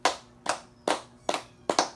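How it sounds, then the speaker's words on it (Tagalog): Five sharp, evenly spaced group hand claps sound in a classroom, fairly close and loud, with short pauses between them and no talking. "bigyan nyo si Jerich ng 5 palakpak."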